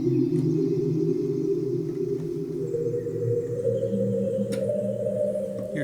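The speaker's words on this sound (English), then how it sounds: "Here we have birds chirping." Birds chirping, run through granular synthesis and resampled, smeared into steady humming, droning tones that shift pitch partway through, continuous and fairly loud with no talking.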